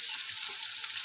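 Turmeric and other spices fry in a pan of oil for a bitter gourd and fish curry, giving a steady close hiss of sizzling with no pauses.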